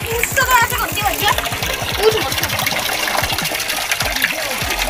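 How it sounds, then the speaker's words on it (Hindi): Chilled water gushes and splashes steadily over a pet during a bath, loud and close, while a person talks over the running water. "यहाँ पे एकदम ठंडा ठंडा चिल्ड पानी आ रहा है शेरी उससे नहा रही है"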